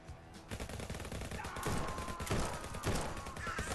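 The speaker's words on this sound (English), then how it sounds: "It's like little mini Gatling guns in your hands." Mini Gatling guns fire in the VR game Guns 'n' Stories Bulletproof, loud continuous rapid bursts that build up and rattle on without a break, with no talk.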